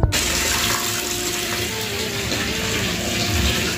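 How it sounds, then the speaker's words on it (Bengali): Tap water pours steadily and loudly into a container to soak clothes, a continuous close gushing rush with no pauses. "জামা কাপড়গুলো ভেজাবো"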